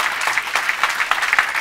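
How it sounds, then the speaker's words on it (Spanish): A church congregation breaks into loud, sustained clapping in praise of the Lord, a thick wash of many hands close by, with no voice on top. "Aplauda al Señor."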